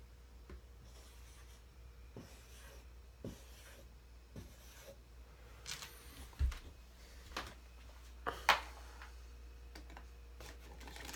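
Chalk or marker strokes on a board come in scattered short scrapes and taps, irregular and fairly close, with quiet pauses between them.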